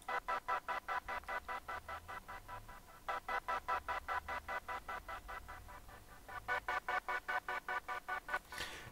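An epic choir sample chopped by a Gross Beat filter in FL Studio into a fast, even stutter of gated pulses. It repeats steadily at a soft level with no talking.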